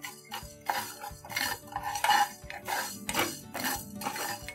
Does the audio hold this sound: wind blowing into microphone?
no